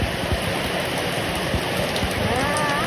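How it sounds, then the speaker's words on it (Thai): Steady rain falling close by on bamboo shoots, a constant wash of patter with scattered drops pinging on nearby surfaces, no talking. "ฝนตกใส่หน่อไม้นี่นะ"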